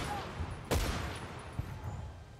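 Gunfire in the video game Battlefield 1943, a single sharp shot followed by a fainter report, heard fairly quietly under low game ambience.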